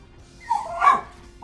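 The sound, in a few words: dog barking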